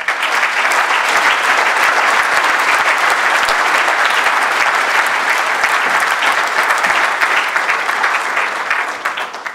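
Audience at an AfD campaign rally in Kirchhain applauds a speaker onto the stage with loud, sustained clapping that holds steady and eases slightly toward the end.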